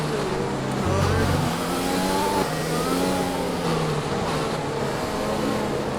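An F1 car engine in the F1 2020 video game at the British GP runs flat out, a loud steady high-pitched drone with rising and falling revs through gear changes, continuous throughout.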